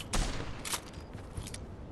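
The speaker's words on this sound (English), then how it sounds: "Watch my bullets when I shoot into this thing" Rapid bursts of gunfire from a Fortnite match crackle in quick succession, a sharp loud volley at the start followed by further scattered shots, with no talking over them.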